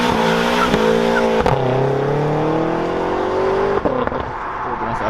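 BMW M5 accelerating hard with wheelspin at an outdoor car event, a loud, close engine roar whose pitch climbs steadily through the revs, with tire scrabble and brief crowd voices in the background.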